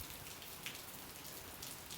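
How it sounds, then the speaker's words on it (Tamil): Steady rain falls on a cozy rainy day, a dense even hiss of drops pattering continuously on surfaces at moderate loudness, with no voices. "திடீர்னால நல்ல ஒரு மழை"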